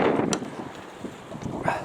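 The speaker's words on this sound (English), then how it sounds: "Sorry about the wind, it's absolute blowing a gale again." A gale-force wind buffets an outdoor microphone on an allotment plot, producing rough low rumbling gusts with a couple of sharp bumps.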